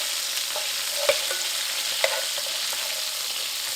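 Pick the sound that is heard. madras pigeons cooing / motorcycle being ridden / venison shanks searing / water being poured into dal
venison shanks searing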